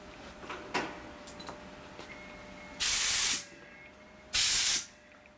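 Compressed air blasts grit off a dowel from a 1965 Harley-Davidson panhead engine during a cylinder head rebuild. The air comes as two loud, sharp hissing bursts of about half a second each, after light workshop clinks and taps.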